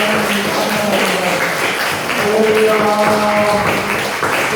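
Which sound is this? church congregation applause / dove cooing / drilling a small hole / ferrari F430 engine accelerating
church congregation applause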